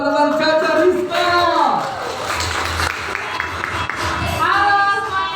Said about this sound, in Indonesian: mari kita beri tepuk tangan sama-sama teman-teman